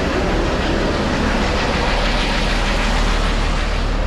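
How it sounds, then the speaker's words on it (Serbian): Helicopter engine and rotor noise during a tour flight over Dubai, a loud, dense, unbroken mechanical roar with a deep low drone, heard close up inside the cabin with no voices. "I koji je ovo zvuk ovog helikoptera kad on krene?"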